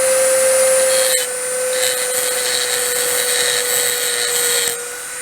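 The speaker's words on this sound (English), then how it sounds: "you would have to grind it all off" A power tool grinds steadily on an OMC Cobra upper gearcase, taking down the high spots, with a sustained whine and constant hum from start to finish and no talk.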